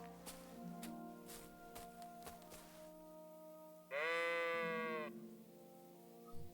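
A sheep in Kingdom Come Deliverance II lets out one loud, wavering bleat lasting about a second, close and clear, after scattered rustles and soft clicks over a quiet background with no speech.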